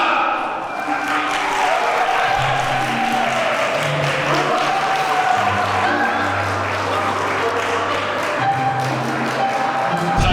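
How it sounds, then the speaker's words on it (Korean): Warm applause fills a wedding ceremony for a Korean-Japanese couple as the flower children enter. It is dense and steady throughout, with low sustained music tones underneath. "자 더욱더 뜨거운 박수 부탁드리면서 화동 입장하겠습니다."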